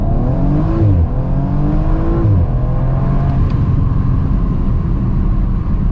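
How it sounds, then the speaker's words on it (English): A 2020 Audi RS4 Avant accelerates hard through the gears, its engine note climbing in pitch, dropping at each of two quick upshifts, then climbing again, loud and continuous with a rumbling low end. "Another look at how aggressive this acceleration is."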